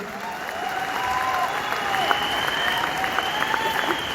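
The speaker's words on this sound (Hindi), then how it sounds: "एक बार जोरदार तालियां हो सकती है उनके लिए" An audience gives a steady, even round of applause that holds at a moderate level throughout, with a faint tonal hum running underneath.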